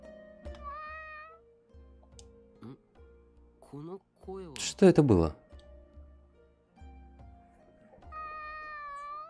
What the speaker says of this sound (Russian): Кот.